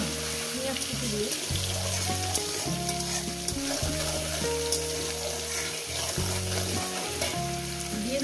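Chopped onion fries in a pan for an egg dish, a continuous loud sizzle with occasional stirring scrapes, heard beneath background music and a speaking voice.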